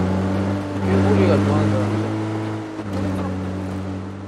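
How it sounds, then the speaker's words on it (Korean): Loud engine drone of a car driven in the PUBG battle royale video game on the Sanhok map, a steady low rumble with a brief dip, under players talking over voice chat. "와, 나 이거 차 소리 너무 크다."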